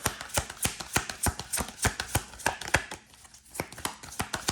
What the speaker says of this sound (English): I know you're not going to have me sit here shuffling forever and ever.